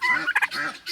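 A farm turkey gives a short, loud gobble close by, a rapid warbling burst lasting about a second.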